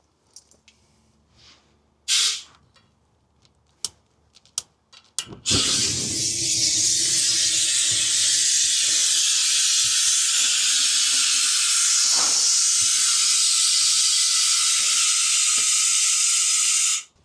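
Aerosol spray hissing into the bead of a tire being reseated on a rim, a loud, continuous hiss lasting about twelve seconds after a few scattered knocks and clicks, then cutting off abruptly.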